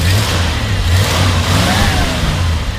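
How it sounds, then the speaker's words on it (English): Engine of a 1965 Ford F100 Custom Cab pickup truck with 3.54 gears, revved lightly from idle, a steady rumbling drone with a brief rise in pitch, close by and alone. "Go ahead and rev it up just a little bit."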